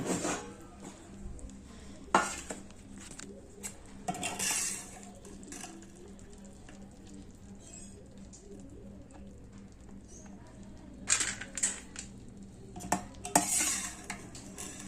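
Boondi being ladled out of hot sugar syrup onto a plate, with metal clinks and scraping at a few moments over a steady low background hum, plus faint bird cooing nearby.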